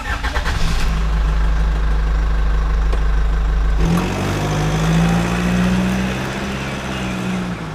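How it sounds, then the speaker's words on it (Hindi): A tractor engine cranks and catches, then settles into a steady, loud, close idle with a deep rhythmic chug, in a village setting. "पहले ट्रैक्टर स्टार्ट कर लेता हूँ।"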